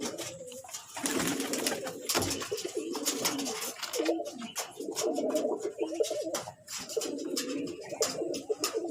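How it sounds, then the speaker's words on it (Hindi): Domestic pigeons coo steadily inside a small home loft, overlapping throaty coos repeating close by in rolling phrases, with occasional flutters and clatter between calls. "बस ये कबूतर है"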